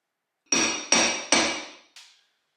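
Hammer tapping a seal into a hub through a hub socket during a 203/205 transfer case doubler build, three sharp ringing metallic strikes in quick succession followed by a fainter fourth, close and alone.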